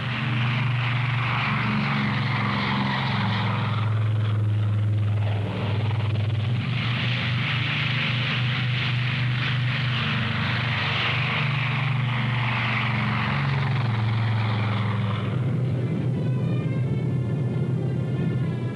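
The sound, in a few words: Air Force C-54 and C-47 propeller aircraft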